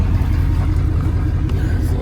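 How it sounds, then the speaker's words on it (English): A loud, steady low truck engine rumble fills the clip, the drone of the truck idling or running close by, with faint talk underneath. "Sorry, the truck's kind of loud."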